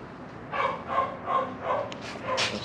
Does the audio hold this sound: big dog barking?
yes